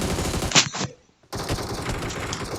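Gunfire in the mobile battle royale game PUBG Mobile, a close burst of rapid shots followed by a moment of silence, then continued game noise with further shots.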